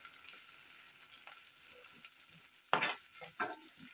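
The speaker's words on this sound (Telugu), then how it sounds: "కొద్దిగా ఫ్రై చేసుకుంటే సరిపోతుంది." Carrot, capsicum and cabbage stir-fried in a pan for street-style egg noodles, with a steady close sizzle and a few sharper scraping stirs of the spatula, no voices.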